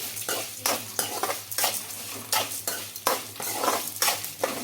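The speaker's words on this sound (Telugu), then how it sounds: "ఈ ఎండుమిర్చి అలాగే చింతపండు కూడా బాగా ఆయిల్ ఫ్రై అవ్వాలండి" Dried red chillies and tamarind frying in oil with onions, stirred with a utensil that scrapes the pan in repeated loud strokes over a steady background hum.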